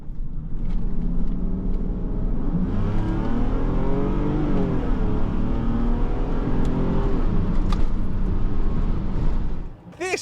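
A Mercedes S600 W140 with a V12 of almost 400 horsepower kicks down into first gear and accelerates hard, a loud, sustained rising engine roar heard from inside the car that cuts off abruptly at the end.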